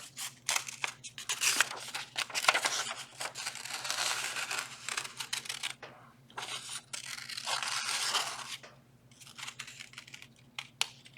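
Scissors cut through paper for a colorful shape sculpture craft, giving close, crisp snipping and crinkling in several bursts separated by short pauses, over a faint steady hum.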